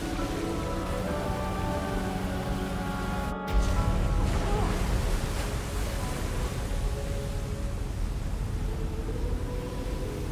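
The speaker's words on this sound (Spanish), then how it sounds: "Se cae el agua." Water rushing and splashing in Zelda: Tears of the Kingdom, a steady rain-like wash of falling water that swells in loudness partway through, under tonal game music.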